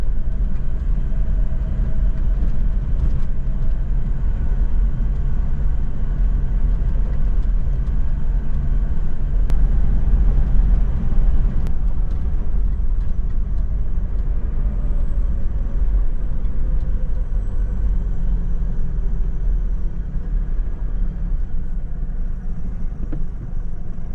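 A 4WD vehicle climbs a rocky track up Mt Studholme. A loud, continuous engine rumble carries steady low drive noise with a bit of wind, and no one speaks.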